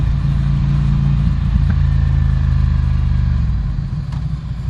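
A Ducati Scrambler Café Racer engine pulls loud and close through first gear, its steady drone dropping in pitch as the rider shifts into second, then settling into a lower throb.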